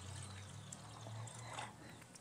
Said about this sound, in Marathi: आता मी कढईमध्ये थोडंसं पाणी ओतते.